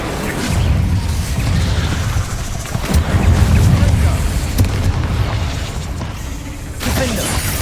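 The Incendio fire spell is cast in the Hogwarts Legacy video game, producing loud, rumbling booms and whooshing bursts over a constant dense roar of combat noise, with a short drop near the end.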